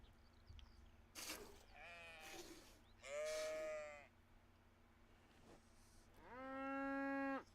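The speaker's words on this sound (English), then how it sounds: "Let's go milk the cows." Cows in the Medieval Dynasty video game moo in three distinct calls, the last a long, loud, drawn-out low moo, with a few soft rustles between.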